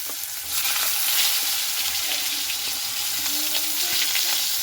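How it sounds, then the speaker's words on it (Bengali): Cut potatoes frying in oil previously used to fry fish give off a steady, close, continuous sizzle and crackle that holds evenly for the whole stretch, with no talking. "এবার আমি আলুটাকে খুব ভালো মতো করে ভেজে নেব"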